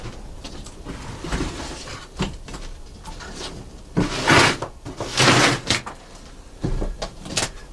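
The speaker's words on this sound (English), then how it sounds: "But here, close the door." An old underground root cellar door is pushed shut, producing a run of creaks, scrapes and dull wooden knocks that grow louder toward a couple of heavier thuds, close by with no talking.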